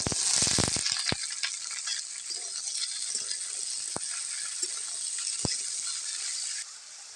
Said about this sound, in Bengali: সব সবজিগুলোকে একদম ভালো করে লাল লাল করে ভেজে নেব